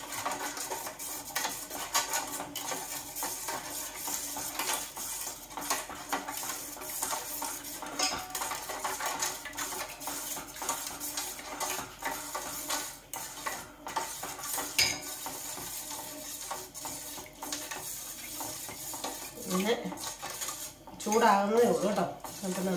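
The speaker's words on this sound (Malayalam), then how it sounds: "ഇങ്ങനെ ഇളക്കിക്കൊണ്ട് തന്നെ ഇരിക്കുക." A spoon scrapes and clinks steadily against a pot as a ragi drink is stirred continuously while it heats, the rhythmic metal scraping carrying on throughout, with a brief louder clatter near the end.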